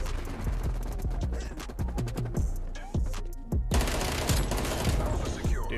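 FFAR 1 rifle fire in Call of Duty: Cold War, with rapid, loud, close bursts of automatic shots broken by brief pauses and clattering between volleys.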